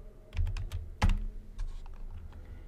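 Typing C++ code on a computer keyboard, with several quick key clicks, a brief pause, then a louder cluster of strokes and a few more scattered taps, close and fairly soft over a low background hum.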